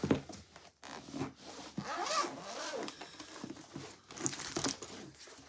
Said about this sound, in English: so you unzip it.